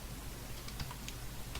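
Typing on a computer keyboard while writing Laravel 5.3 code, a steady run of soft key clicks with a few sharper taps, close and alone.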